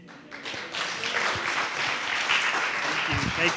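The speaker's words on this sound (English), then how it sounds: "Give her another round of applause" Audience applause at a CSU Super Sunday church service, a dense, steady burst of clapping that holds for several seconds, with faint voices underneath.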